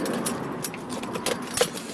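Van keys jangle briefly and close by in a couple of metallic bursts, with a faint background hum.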